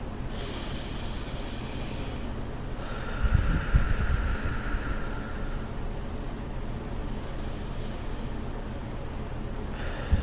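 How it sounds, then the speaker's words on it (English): A person takes three slow, deep breaths up close, each one a soft airy rush with short pauses between, and no talking. "it's time for me to take 3 deep breaths"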